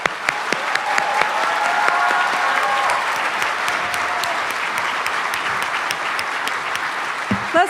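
An audience at a stethoscope and commitment ceremony applauds students, dense sustained clapping from a large crowd with a few sharper nearby claps standing out, some faint voices underneath.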